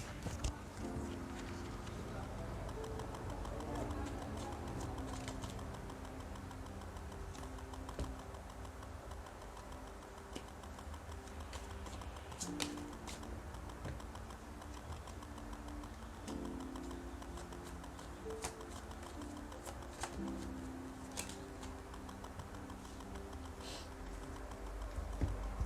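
Tarot cards are drawn and shuffled in a quiet room, a soft run of crisp flicks and taps repeating steadily for about half a minute, close and faint with no talking.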